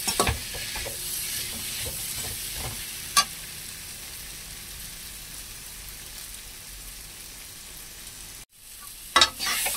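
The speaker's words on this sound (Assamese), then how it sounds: "মোৰ ৰঙালাওখিনি ভাজি হৈ গ'ল।" Pumpkin frying in a pan gives a steady, close sizzle, with occasional scraping stirs and a few louder clinks of the spoon against the pan, and no voices.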